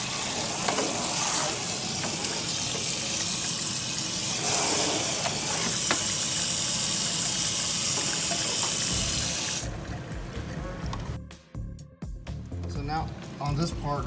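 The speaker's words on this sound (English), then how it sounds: "now it's time to like rinse it and soak it up with some soap." A faucet runs steadily into a sink to rinse and soak a cut Tamiya Ferrari 458 Italia RC car body, a loud rushing hiss that cuts off near the end, followed by splashing and handling sounds.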